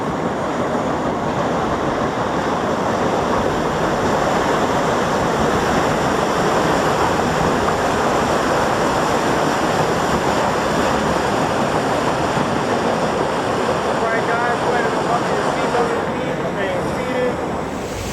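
Constant loud rushing and churning water of the Gully Washer river rapids ride at Six Flags Fiesta Texas, a dense, unbroken roar with wind buffeting the microphone throughout.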